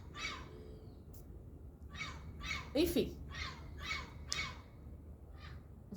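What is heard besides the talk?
noisy bird calling nearby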